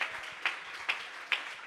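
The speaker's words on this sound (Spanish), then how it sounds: "Yo creo que se merece un mejor aplauso en esta mañana." Hands clap at a church service in a slow, evenly spaced beat, four sharp claps standing out above a faint background.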